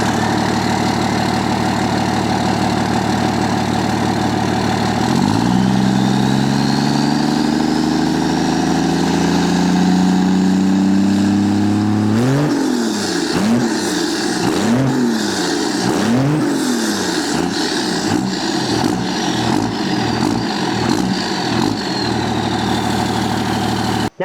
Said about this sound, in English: Now you can see why we said the 10-inch exhaust tip was big, loud, and obnoxious